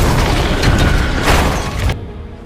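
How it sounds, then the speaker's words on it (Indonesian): A fighter jet explodes in a film scene, a loud, dense, rumbling boom that sustains for about two seconds before cutting off abruptly to a quieter tail. "malah pesawat tempur itu yang meledak"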